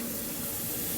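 Mushrooms, onions and garlic sizzling in hot oil in a pan, a dense, even hiss filling the whole moment at close range with no talk.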